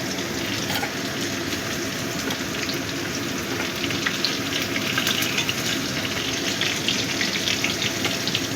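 Okra fries in hot oil in a pan, giving a steady, crackling sizzle that stays dense and even throughout with no talking.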